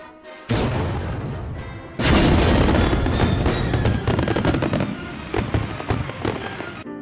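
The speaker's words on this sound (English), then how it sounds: "this should produce a nice white spark effect" A test firework composition ignites and burns with a loud, sustained crackling hiss, dense popping sparks continuing for several seconds close by.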